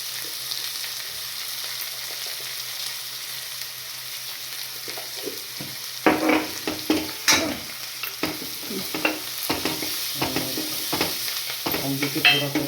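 Cumin and coriander seeds frying in oil in a steel kadai: a quiet low background hum at first, then soft crackles and sharp stirring scrapes in uneven bursts, close and moderately loud.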